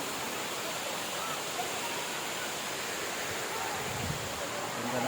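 Encanto Falls, a three-tiered waterfall, gives a steady, broad rush of falling water that stays constant and fairly soft throughout, with no voices.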